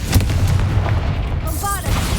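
A Confringo fire spell in Hogwarts Legacy goes off as a short, loud, booming blast with a rumbling low end, over in about two seconds.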